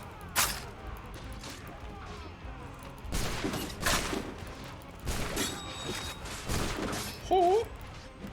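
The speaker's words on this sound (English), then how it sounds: "They're firing down on us." Musket volleys crack out in several bursts during a battle in Assassin's Creed III, loud sharp shots and crashes mixed with game sounds and someone talking over the action.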